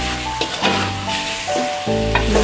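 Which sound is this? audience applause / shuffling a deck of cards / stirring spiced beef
stirring spiced beef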